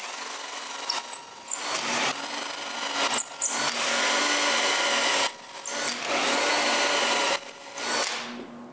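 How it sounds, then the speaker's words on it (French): A power drill bores holes through a wooden spacer for a homemade wooden band saw: a loud, steady high whine that dips in pitch and cuts out briefly several times as the bit pushes through, close up. "je perce des trous directement à travers des trous que j'ai déjà faits"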